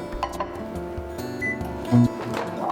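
A microwave oven heating rice in a glass bowl hums steadily and faintly, then gives a short beep near the end.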